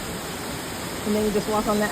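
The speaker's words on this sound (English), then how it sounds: "Opportunity to walk behind the waterfall here." A steady roar of falling water comes from an Oregon waterfall along a rocky walking trail that leads behind the falls, heard up close with a person talking over it.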